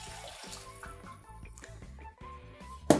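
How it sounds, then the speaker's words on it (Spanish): Water is poured into a pot of vegetable and seaweed soup, a soft steady trickle and splash heard close up and fairly quiet for a few seconds. "Vamos a agregarle más agüita."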